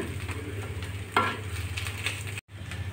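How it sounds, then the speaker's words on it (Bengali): Cabbage bhorta (mashed cabbage) frying in a kadai, giving a steady close sizzle over a low hum, with a brief stirring scrape about midway and a momentary drop in sound near the end. "আমি আর একটুখানি 1 মিনিটের মতো ভাজি করে নিয়ে নামিয়ে নিচ্ছি"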